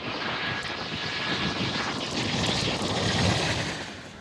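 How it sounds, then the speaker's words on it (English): Airliners landing at a large airport with long runways, a steady broad roar of fixed-wing aircraft engines that swells gradually and holds loud throughout, with no voices. "This is all as the planes are landing."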